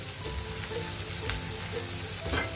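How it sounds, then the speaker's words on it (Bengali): Onions fry with salt in a pan as the cook stirs them, a continuous close sizzle with occasional scraping from the spoon. "হালকা ব্রাউন করে ভেজে নিতে হবে পেঁয়াজটা"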